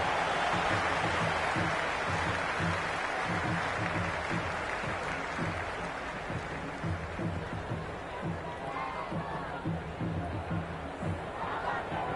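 A cricket crowd in the video game Cricket 26 on PS5 keeps up a steady roar of cheering and clapping, dense and continuous throughout with a constant low background rumble.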